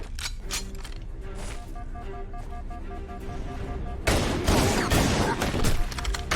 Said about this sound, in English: Chief and Spartan pin him in the corner and both unleash their entire magazines